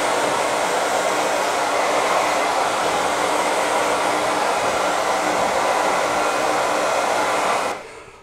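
A hair dryer roars in a loud, steady rush of air while blowing a boy's hair, running for several seconds before abruptly cutting off at the end.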